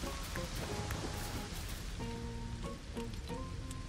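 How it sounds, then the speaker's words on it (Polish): Steady rain in the LEGO Fortnite video game, a dense continuous patter and hiss throughout, with a soft musical score and faint game tones layered over it. "Ten deszcz jest uprzykrzający"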